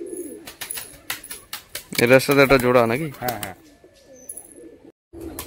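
Pigeons coo in a loft where birds are kept loose, soft repeated calls under nearby conversation, with a louder burst of voices in the middle.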